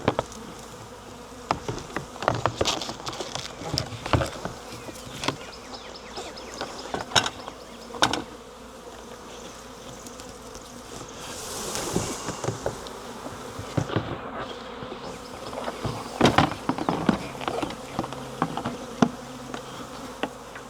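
A swarm of honey bees hums steadily throughout, a dense droning buzz with individual bees passing close, alongside occasional knocks and handling noises.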